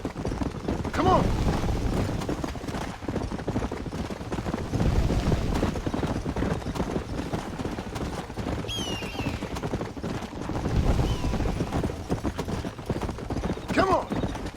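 Hooves pound in a fast, steady gallop for the whole stretch in Red Dead Redemption, with a brief whinny and faint voices mixed in.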